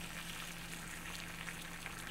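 Water at a hard rolling boil on a bottle stove gives a steady, close, hissing, bubbling roar with no voices.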